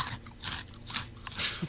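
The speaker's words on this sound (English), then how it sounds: "crunching away during every break" Someone crunches Bugles corn snacks near the microphone, repeated crisp bites and chewing in an uneven rhythm over a steady background hiss.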